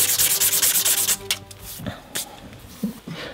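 The inside of a metal thong tube in a fixed-blade knife handle is chamfered, making a close, rhythmic scraping rub for about a second, followed by a few scattered light scrapes and taps.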